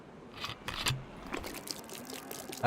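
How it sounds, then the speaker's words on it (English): Liquid being poured out from a found container in the survival video game DayZ, a faint, short trickle and splash of water heard alone. "Let's pour that away."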